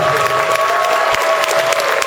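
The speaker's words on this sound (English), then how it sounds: "yes, clap." Convention audience at a PAX East 2011 musical guest panel breaks into loud, dense applause with scattered cheers, a continuous close clapping roar throughout.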